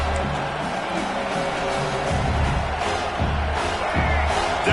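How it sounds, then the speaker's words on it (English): Stadium crowd at a football game roaring and cheering as the home defense lines up on third down, a loud continuous wall of voices with swelling surges, a commentator's speech faintly mixed in. "Decibels rising as the crowd gets behind this defense on third down."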